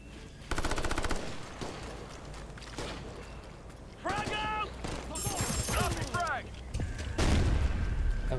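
Assault rifle fire in the Ghost Recon Future Soldier video game comes as several loud bursts of rapid shots mixed with other battle effects, while voices talk over the action.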